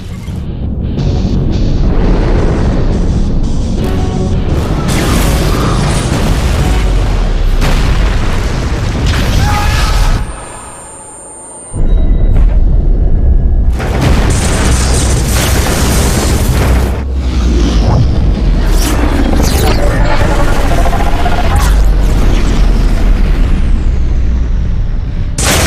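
Sci-fi movie starship battle with booming weapons fire and heavy explosions crashing almost continuously, loud and dense, broken by a brief near-silent gap before the blasts resume.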